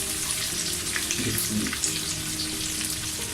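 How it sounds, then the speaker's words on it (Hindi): Ginger garlic paste fries with mutton in a karahi, giving a close, steady, dense sizzle with faint stirring throughout. "अब मैं इसके अंदर जो है अदरक लहसुन का पेस्ट जो है वो ऐड करता हूँ।"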